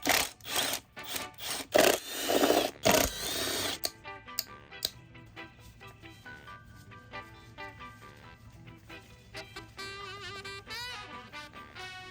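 Bolts and screws come off a 2006 Polaris Scrambler 500 ATV during disassembly. Loud, rasping bursts of ratcheting tool work run for a few seconds, then give way to a quieter mechanical whir with a tonal whine.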